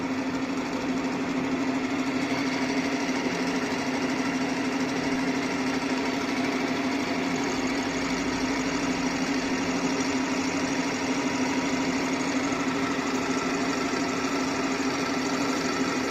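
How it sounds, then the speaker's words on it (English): A workshop milling machine runs with its end mill cutter spinning, making a continuous loud motor hum with a steady drone and no pauses throughout. "And we are powering on this machine. You can see the end mill cutter is rotated."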